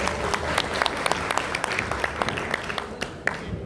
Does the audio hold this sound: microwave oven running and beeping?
no